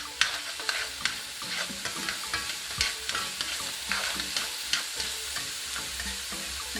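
Four cloves of diced garlic fry in an orange skillet with a steady close sizzle, broken by regular scraping taps of stirring.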